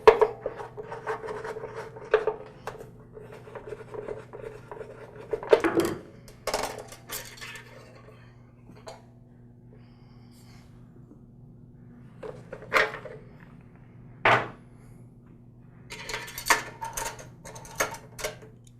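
Screws being removed from the plastic molding on the back of a Troy-Bilt Super Bronco tiller's gas tank: intermittent close scraping, rubbing and small metallic clinks, separated by quiet pauses, over a steady low hum.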